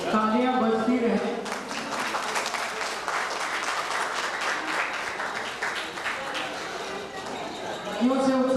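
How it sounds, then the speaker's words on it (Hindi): A crowd at the Astitva Matri Shakti Samman 2022 award ceremony applauds the Town Club sports team on stage, steady clapping filling most of the stretch, with a voice speaking over it at the start and end. "तो टाउन क्लब के लिए जोरदार तालियां"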